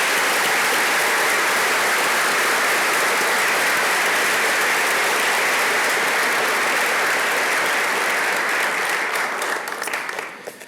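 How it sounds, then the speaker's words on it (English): Audience applause at a 2016 college academic and leadership awards convocation, a dense steady roar of clapping from a large crowd lasting about ten seconds before thinning out at the end. "Let's give them one more round of applause."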